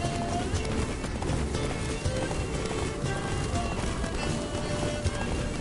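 Horse galloping in the video game The Witcher 3, a rapid continuous clatter of hooves at a run, fairly loud and steady throughout with no talk.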